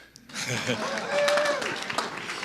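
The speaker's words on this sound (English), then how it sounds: "You can clap to that." Audience applause at a keynote presentation in a conference hall, a swelling wash of clapping from many hands that builds and fades, with voices and laughter mixed in.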